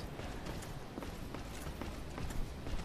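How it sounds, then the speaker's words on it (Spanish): Footsteps in the Dark Souls video game, a steady run of soft, repeated thuds like clip-clopping steps over a dense, noisy game soundscape, moderately loud throughout. "Escucho pisadas."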